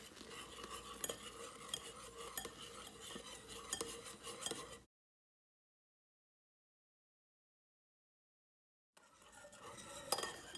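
A spoon scrapes and stirs thick, sticky melted marshmallow in a bowl, steady and close, broken by a stretch of silence before stirring resumes.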